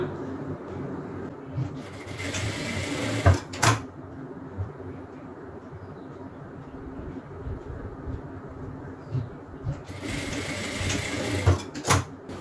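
A sewing machine stitches the front and back of a garment together, its steady motor whir running continuously at close range with a few brief clicks and knocks.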